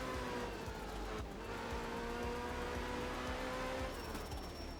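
A rally car engine in the racing game art of rally drones steadily and loud, holding a sustained tone with slight pitch shifts and a brief change near the end, with no talking.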